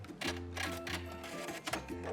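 A sewing machine back stitching at the end of a seam of lace elastic on a thong, its motor whirring in short start-and-stop runs with brief pauses between.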